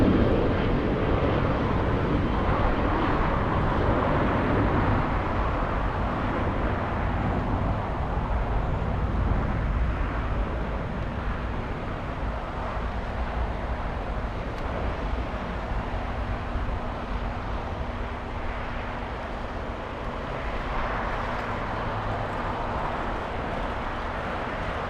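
An airliner departing Los Angeles International Airport on a flight to Las Vegas, a loud, steady broadband jet roar filling the whole stretch, easing slightly partway through, with a faint constant hum underneath and no talking.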